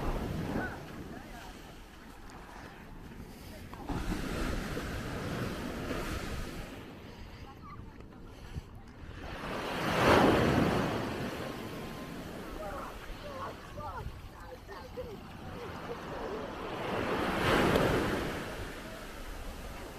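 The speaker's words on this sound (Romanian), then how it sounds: "Este foarte multă liniște. Sau doar valurile." Sea waves break on a quiet beach, with two swelling surges of surf rolling in and washing up over steady wind noise and gentle lapping.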